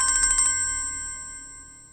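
A mobile phone ringtone chimes in a quick burst of repeated bright electronic beeps, then a single tone hangs and slowly fades, fairly close with no talking.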